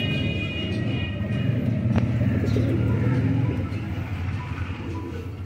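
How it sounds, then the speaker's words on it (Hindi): Breeder pigeons cooing in a loft, soft low murmuring coos close by under a steady background rumble, with no talk. "ये इंतहाई लाजवाब कबूतर"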